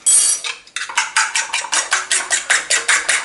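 A whisk beats a seasoning mixture of cayenne and garlic powder in a bowl, producing a fast, regular run of loud, close clinking strokes against the bowl's sides, about four per second.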